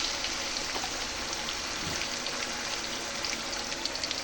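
Mustard seeds fry in hot oil for a Bengali Mirka fish curry with potato, radish and tomato, giving a dense, steady, rain-like crackle and spatter that holds evenly throughout.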